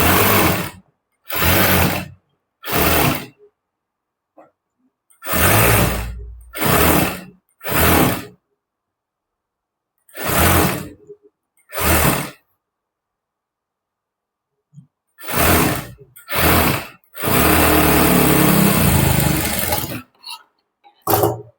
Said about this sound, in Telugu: ఈ బకరం ఉన్నది ఇలా నేను స్టిచ్ అన్నది వేస్తున్నాను చూడండి